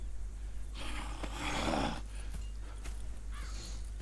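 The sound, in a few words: horses in video game Red Dead Redemption 2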